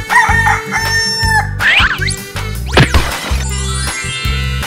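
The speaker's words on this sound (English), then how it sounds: "Chicken." A rooster crows close and loud amid a busy run of clucks, squawks and other farm-animal calls over a repeating low backing beat.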